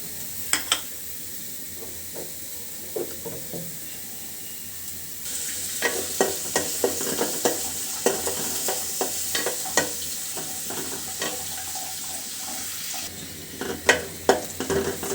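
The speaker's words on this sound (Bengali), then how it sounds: "পাতিলটা বসিয়েছি, এখন এর ভিতর দিয়ে দিচ্ছি পেঁয়াজ" Onion and green chillies frying in a cooking pot, a steady broadband sizzle that grows louder midway, with frequent scraping stirs and clicks from a utensil, close and without talk.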